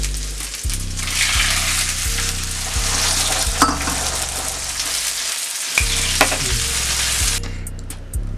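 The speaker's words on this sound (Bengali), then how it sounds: "আদা বাটা হয়ে গেছে, এবার সেদ্ধ ডালটা ঢেলে দেবো" Boiled chickpea dal is poured into frying spices and ginger paste, bursting into a loud, steady sizzle with repeated scraping stirs in a rhythmic pattern, close and continuous, a few light clinks near the end.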